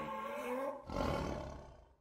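A single deep lion roar, close and loud, swelling briefly and then fading out.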